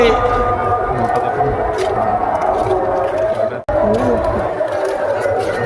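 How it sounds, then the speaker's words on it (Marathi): A large crowd of pilgrims at the temple in Alandi creates a steady, close wash of chatter and murmuring that is loud and continuous, with a brief drop near the middle. "खूप गर्दी आहे इथे"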